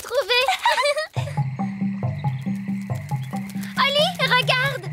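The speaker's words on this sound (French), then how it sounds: "Il a dû sauter dans la mare. C'est là que vivent les grenouilles." Cartoon frogs at a pond give a run of deep, rhythmic croaks, about a dozen evenly spaced calls close up, with bright cartoon voices chattering just before and just after them.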